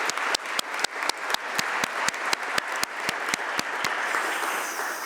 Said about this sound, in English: let's give a clap for all of our staff